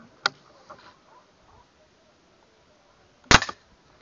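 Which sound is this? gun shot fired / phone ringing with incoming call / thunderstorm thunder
gun shot fired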